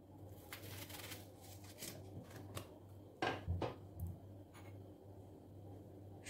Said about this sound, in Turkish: Soğanlarımı da 4'e bölüyorum.